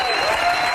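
A studio audience at a live morning talk show's final broadcast applauds steadily, a dense close wash of clapping with no break.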